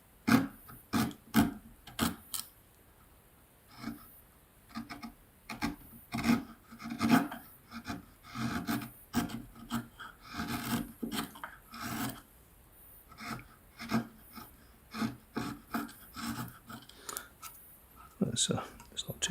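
A sharpened chisel cuts hard purpleheart wood in a series of short rasping scrapes with irregular pauses between strokes, close up, while someone talks between the cuts.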